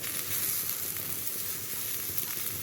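Bitter gourd and curry leaves fry in a pan, giving a steady, dense sizzle that carries on evenly throughout, close and alone with no talking.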